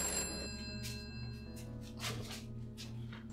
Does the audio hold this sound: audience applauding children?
no